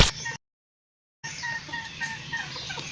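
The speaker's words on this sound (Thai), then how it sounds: "นี่คือไก่ป่าตุ้มหูขาว" A white-earlobed junglefowl calls with a rough, crowing cry after a brief gap of silence, fairly close with some background noise.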